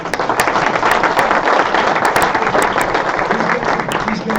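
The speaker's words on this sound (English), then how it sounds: "It's my pleasure to have everybody give Michael a big round of applause." Loud, dense crowd applause at a freshwater spearfishing championship awards ceremony, continuous and even throughout with sharp individual claps popping out of the mass.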